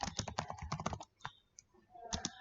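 A command is typed on a computer keyboard in quick, close bursts of clattering keystrokes, a short pause, then a few more keys pressed, with no one talking.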